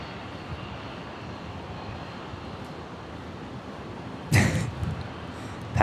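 A Dash 8 turboprop departs from runway 01 right at Brisbane airport, a steady distant engine roar with a brief louder burst near the end.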